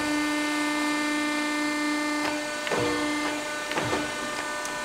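A 175-ton Pacific CNC hydraulic press brake, model K175-8, hums steadily as its ram inches down, with a few short mechanical clunks and squeaks partway through over the constant whine of the hydraulic pump.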